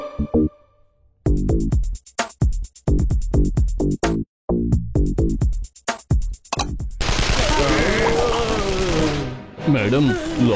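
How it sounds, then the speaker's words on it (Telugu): A doorbell in a home that chimes a burst of rapid gunfire-like shots, loud and close, sounding in several quick rattling bursts after musical notes, followed by an excited shouting voice. "మేడం లోపల తుపాకీ శబ్దం వినపడుతోంది ఇది మా బాబాయ్ డోర్ బెల్ శబ్దం ఆయన మేజర్ కదా"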